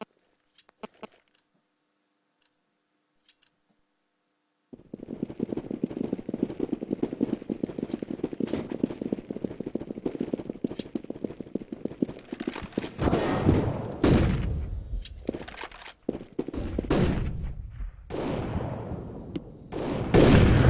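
Gunfire erupts in a Counter-Strike match: after a quiet opening, dense rapid volleys of shots build and grow louder and more clustered toward the end.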